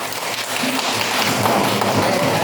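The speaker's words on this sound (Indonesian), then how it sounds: "Tepuk tangan untuk kalian." A group breaks into applause in a gathering, a dense, continuous wash of clapping hands that stays loud and even, with no talking over it.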